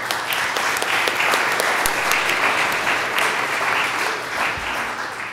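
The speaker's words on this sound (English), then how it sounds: "Grown-ups, let's give all the kids a round of applause." A church congregation at a third Sunday of Advent service gives the children a round of applause, a full, even wash of many hands clapping steadily for several seconds.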